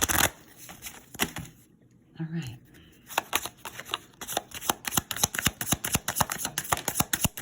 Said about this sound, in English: It's a small deck, so it's hard to shuffle.